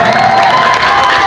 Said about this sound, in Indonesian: Beri tepuk tangan untuk kandidat 3.